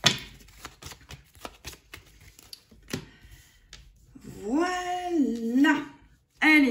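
Lenormand cards shuffled and drawn by hand, a run of soft papery flicks and taps up close, with a voice heard talking over the last few seconds.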